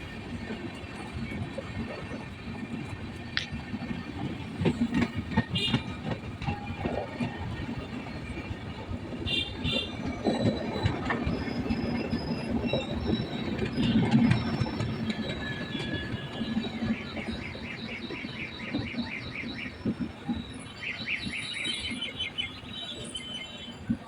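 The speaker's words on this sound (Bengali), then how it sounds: "যোধপুর এক্সপ্রেস এই এক্সপ্রেস ট্রেনটিতে মোট উনত্রিশটি স্টপেজ রয়েছে টোয়েন্টি নাইন ধীরে ধীরে বালি স্টেশন দিয়ে বেরিয়ে যাচ্ছে" The Jodhpur Express rolls slowly through Bali station, its wheels clattering in a steady rhythm over the rails with occasional faint squeals and distant bird chirps, loud and continuous with no voices.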